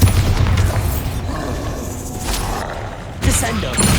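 A Bombarda spell explosion in Hogwarts Legacy erupts as a loud, rumbling blast that decays into debris and crackle, then a second burst of impact hits near the end, close and heavy.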